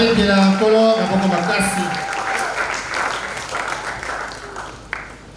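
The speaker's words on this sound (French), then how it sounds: "Acclamez très fort le Seigneur." A church congregation claps and cheers for the Lord, the crowd's applause loud and sustained, opening under a strong voice that fades as the clapping carries on alone.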